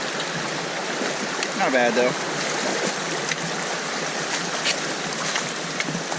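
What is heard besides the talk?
wading through a knee-deep cold creek crossing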